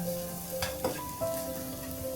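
Onions frying in a pan for onion eggs give a soft, steady sizzle with a few brief clinks of stirring, close and quiet with no talk.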